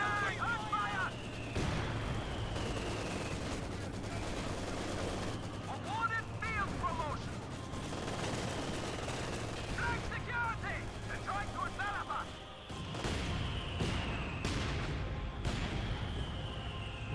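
Mortar fire in Company of Heroes 2, a World War II strategy game, with repeated booming launches and blasts spread through a busy battle soundscape, under continuous talk.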